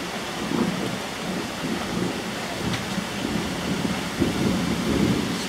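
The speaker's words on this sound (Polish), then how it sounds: "Spory deszcz pada." Heavy rain pours steadily during an evening thunderstorm over Łowicz, a broad continuous roar with faint low rumbles, and generators run in the background.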